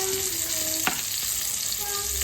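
Meatballs frying in a pan, a steady dense sizzle throughout with a brief stir or tap partway, close and alone without voices.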